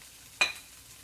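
A quick sizzling scrape as chopped onion is stirred in a hot pan, one short burst that fades into a faint, steady frying hiss.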